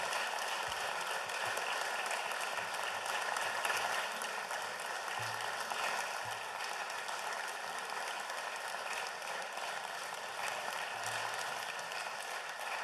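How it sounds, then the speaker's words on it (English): Legislators in the South Carolina House chamber applaud steadily, a dense, even wash of clapping that holds at a constant level from start to finish with no voices over it. "I feel like we're clapping for ourselves"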